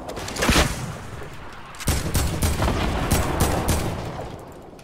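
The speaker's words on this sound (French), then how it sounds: "J'aime pas mal le bruit de lance-roquette." Rocket launcher fire in the Fortnite video game: a loud, sharp blast opens, then after a short gap a second heavy boom rolls into a sustained, crackling rumble that slowly fades.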